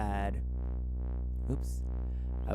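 A synthesizer pad built from a plain sine wave, softened with subtle reverb and delay, sustains as a steady tone with slowly swelling, pulsing overtones; no voices.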